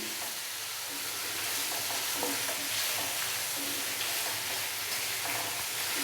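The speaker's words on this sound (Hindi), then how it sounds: "और अभी हम चिकन को अच्छे से भून लेंगे 5 से 7 मिनट के लिए।" Chicken fries in a pan for dry pepper chicken, with a steady loud sizzle and repeated scraping stir strokes at an uneven pace, close by and without any talking.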